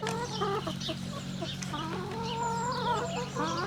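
Chickens cluck and chatter steadily over a constant low hum, several birds calling at once in a busy, close-up barnyard scene.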